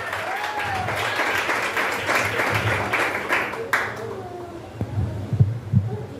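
A congregation applauds during a church service, a dense wash of clapping that swells and then fades into scattered claps, with some voices mixed in.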